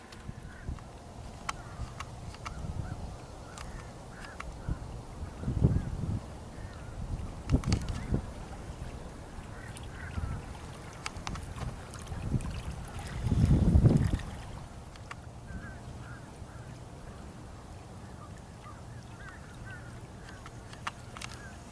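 A buzzbait fishing lure sputters and churns across the water surface in a few bursts, faint and rhythmic, set against steady wind and outdoor background noise.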